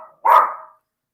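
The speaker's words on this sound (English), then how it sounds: "sorry, my dogs are barking" A single dog gives one short, loud bark at close range, alone, with silence before and after.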